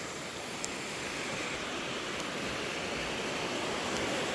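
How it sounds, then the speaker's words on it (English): Piney Creek flows beneath a suspension bridge at Fall Creek Falls State Park, heard as a steady, broad rushing wash of water that holds even and continuous throughout with no voices. "So the falls that we saw come from the creek beneath us."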